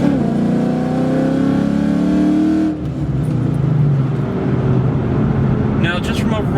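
A car with a Coyote V8 swap and a 3650 manual transmission accelerates hard, engine note climbing steadily in pitch before a shift near the midpoint, then pulling again, loud and continuous throughout.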